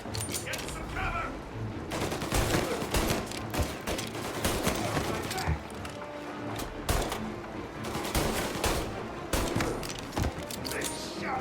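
Sustained gunfire from a shootout in the video game Mafia: Definitive Edition, dense bursts of shots cracking almost continuously for the whole stretch, with voices talking over the battle.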